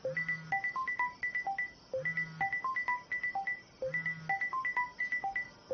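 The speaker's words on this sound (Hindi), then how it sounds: "किसका फोन है?" A mobile phone rings with a bright electronic ringtone melody, the same short tune looping about three times at a fairly low level with no voices.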